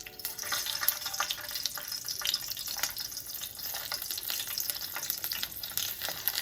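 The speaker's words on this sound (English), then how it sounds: "we are about to add our garlic and ginger and also a hot pepper to the oil" Garlic, ginger and hot pepper frying in hot oil for escovitch fish, a steady crackling sizzle with scattered sharp pops, close and continuous.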